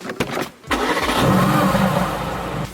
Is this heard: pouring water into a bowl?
no